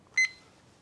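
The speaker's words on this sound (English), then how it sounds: "And you set your timer for 15 minutes" A kitchen timer being set while a Dutch baby pancake bakes in the oven gives one short, clear, close electronic beep against near silence.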